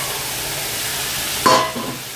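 Sea fish drop into hot spiced oil, setting off a sudden loud burst of sizzling that breaks into a steady frying hiss before fading slightly.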